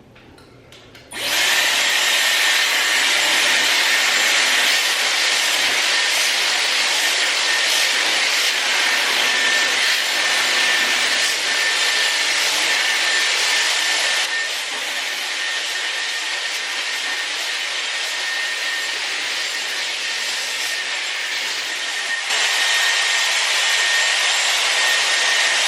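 A Dyson hair dryer running on its highest heat setting, a loud, steady, close airflow roar that starts abruptly and continues with slight shifts in intensity, no voices.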